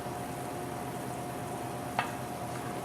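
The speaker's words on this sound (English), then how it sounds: "Our syrup is boiling away like crazy in the pot, which is good." Sugar syrup for marshmallows boils hard in a pot, a steady close bubbling hiss running throughout with one brief sharper click near the end, no voices.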